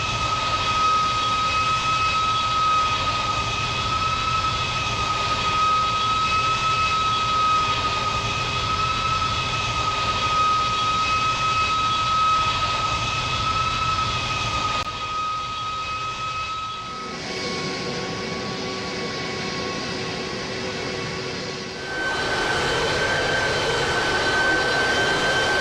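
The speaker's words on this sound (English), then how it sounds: "The airliner taxis into position on the runway." Steady twin jet engine whine of an airliner taxiing onto the runway at night, a high tonal hum over low rumble, holding level before shifting pitch slightly as it moves along the ground.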